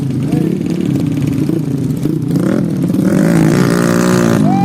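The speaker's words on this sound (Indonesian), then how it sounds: "Waduh, motor semua ini." Several motorcycles ride along a rural road in the interior of Pagar Dewa, West Lampung, their engines droning loudly and steadily throughout, with the pitch rising near the end, while people talk over the noise.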